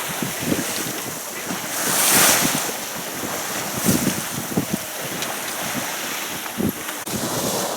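Sea waves slap and rush against the hull of a sailing yacht in rough Scandinavian waters, irregular splashes and surges over strong wind buffeting the microphone, with a brief louder gust in the middle.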